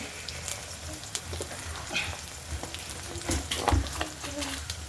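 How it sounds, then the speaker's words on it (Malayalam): Ginger pieces fry in a hot pan for a ginger curry, giving a steady close crackling sizzle with scattered louder pops and spatters throughout. "ഇഞ്ചി കറി വെക്കാൻ വേണ്ടി ഇഞ്ചി വറുക്കാണ്"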